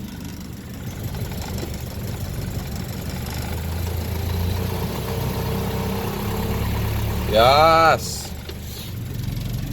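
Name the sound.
vehicle engine running and moving in first gear, new transmission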